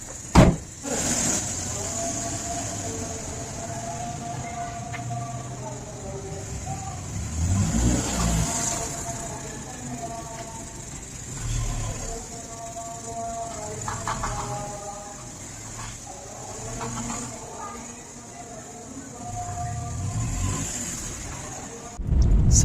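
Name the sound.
car engine being warmed up on a cold day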